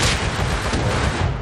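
A double-barrel shotgun blasts in Rust, one loud, broadband boom that rings out over roughly a second and a half, close and dominant with no talk over it.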